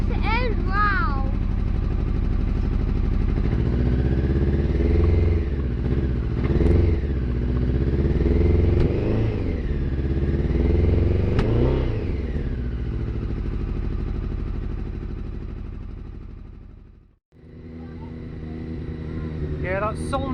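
A Honda CBR 900 RR Fireblade engine runs on choke, a loud, steady idle with uneven firing as a missing fourth cylinder cuts in, while people talk over it throughout; the engine briefly dips near the end before picking up again.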